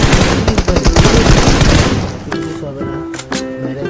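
Automatic and rapid gunfire in a shooting video game fight, loud and dense for about two seconds, then thinning to scattered shots over tonal game sounds, with a voice talking underneath.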